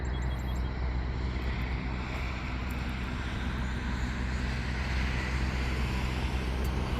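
Stearman biplane taking off from a runway at a fly-in, a steady, loud engine drone running without a break.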